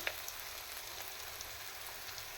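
Ingredients for a dried turkey berry and broad bean curry sauté in a pan, giving a faint, steady sizzle with a few soft pops, heard alone.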